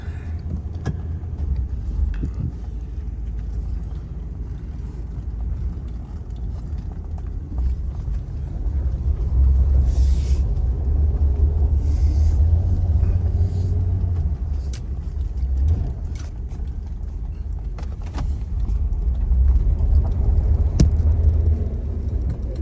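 A 1975 Chevy Monte Carlo cruises along a road, its engine a steady low rumble from inside the cabin that swells slightly as it accelerates, with faint road and wind noise.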